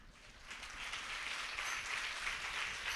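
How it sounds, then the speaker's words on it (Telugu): A church congregation applauding during a sermon on the fifth word of the cross, with dense, sustained clapping from many hands that builds slightly and fills the whole stretch without a pause. "బైబిల్ మిషన్ చప్పట్లు కొట్టారు"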